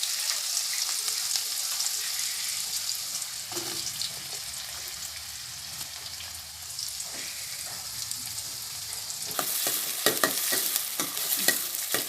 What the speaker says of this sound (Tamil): வெங்காயத்தை நல்லா வதக்குவோம்